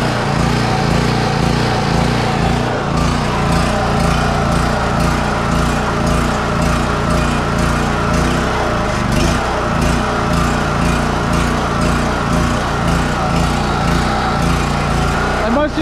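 A gasoline generator engine runs rough on half choke, a loud, continuous engine drone with an uneven, pulsing beat throughout, with a voice heard under the noise.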